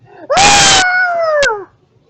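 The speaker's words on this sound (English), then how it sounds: "As soon as you kick the door down, you hear a blood-curdling scream" A loud, piercing scream erupts from upstairs right after a door is kicked down in a Halloween horror scene, a sustained wailing shriek lasting over a second with a burst of noise at its onset, then fading out.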